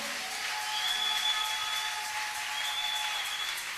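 A church congregation claps steadily through a service, a dense, even wash of applause with a faint sustained tone running beneath it.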